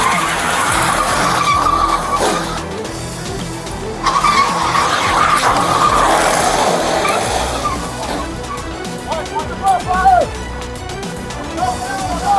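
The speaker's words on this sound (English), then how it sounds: "He reversed into a patrol car, accelerated toward officers, and hit another vehicle" A car reverses into a police patrol car and accelerates toward officers, tires skidding and squealing over a revving engine, loud and close, with voices audible in the background.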